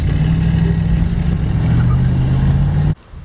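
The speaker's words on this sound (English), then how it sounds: "gave it about half throttle. Did you hear that little chirp?" A small-block Mopar 318 V8 with a two-barrel carburettor pulls away from a standstill at half throttle, a close, steady low engine drone that rises slightly, ending abruptly; the short tire chirp is not clearly distinct.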